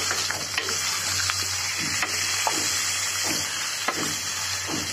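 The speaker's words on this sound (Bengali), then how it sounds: "এটাকে আমি তেলের উপরে খুব ভালো করে ফ্রাই করে নেব" Chicken and potatoes frying in oil make a steady, dense sizzle close by, with faint intermittent scraping of stirring under it and no voices.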